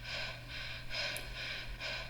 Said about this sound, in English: So I recorded my breath, and it came out to this.